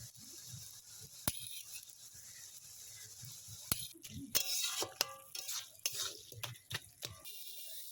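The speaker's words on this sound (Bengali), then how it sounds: "অল্প করে হলুদ বেটে রাখা রাঁধুনি আর রসুন বাটাটা দিয়ে দিচ্ছি" Turmeric, radhuni and garlic paste fry in a pan as a spatula stirs and scrapes, sharp metal clinks and knocks landing irregularly over a soft, low sizzle, loud and close, with no speech.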